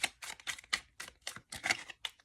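A deck of tarot cards is shuffled close up in quick, crisp riffles and slaps, several bursts of papery clicking in a steady rhythm, fairly quiet with no talking.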